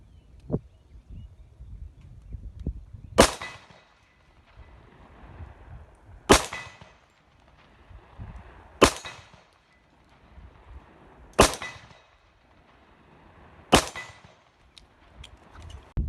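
Five sharp gunshots from .45 Super handloads with 255-grain hard cast semi-wadcutter bullets over 800X powder, fired at spaced intervals of about three seconds, each a loud crack standing out against quiet outdoor background.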